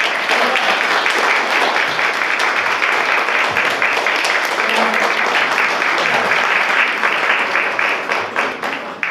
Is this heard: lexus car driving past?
no